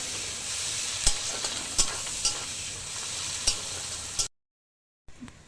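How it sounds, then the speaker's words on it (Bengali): Onions fry in hot oil with a steady close sizzle, broken by a few sharper clinks of stirring, before cutting off abruptly into brief silence and a faint return. "ওই তেলের মধ্যে আমি পেঁয়াজটা ভেজে নেব।"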